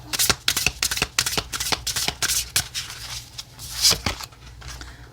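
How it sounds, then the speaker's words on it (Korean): Tarot cards are shuffled by hand, a rapid close, rhythmic riffle and flapping of the deck that slows and stops as cards are drawn. "테마 카드를 3장 뽑아보도록 할게요."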